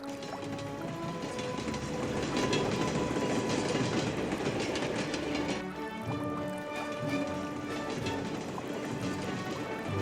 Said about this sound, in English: This train is bound for Ferret Wonderland.